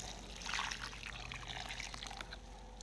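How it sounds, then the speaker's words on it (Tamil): Water mixed with fungicide and humic acid poured onto a potted plant, a soft brief trickle and splash heard close and faint. "இப்போ இதை தான் நம்ம ஊற்றி விட போகிறோம்."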